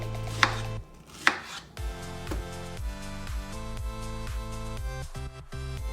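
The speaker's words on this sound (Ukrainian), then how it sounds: "Далі персик нарізаємо кубиками." Knife dicing a peeled peach into cubes on a cutting board, a quick steady series of close, crisp taps with a couple of louder knocks near the start, set against soft music.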